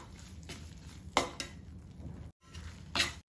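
Besan roasting in a pan with a little ghee while a spoon stirs it, giving soft scraping and a few sharper clinks of metal against the pan, one brief silence, no talk.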